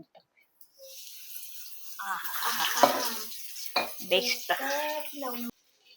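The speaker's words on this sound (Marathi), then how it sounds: "आपण एक ही पलटी करून घेऊया मच्छी हा तुम्ही बघू शकता किती छान तळलेला आहे मच्छी" Pomfret fish shallow-frying in a pan with a spice-masala coating. A steady sizzle with occasional stirring and pan sounds runs for several seconds, while a voice talks over it.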